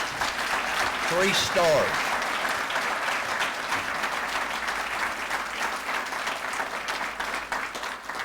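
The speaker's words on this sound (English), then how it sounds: "let's have a round of applause." An audience at a 2012 TTAA Distinguished Alumni Dinner gives a sustained round of applause that fills the room. Someone speaks briefly over it near the start, and the clapping then continues evenly, slowly thinning toward the end.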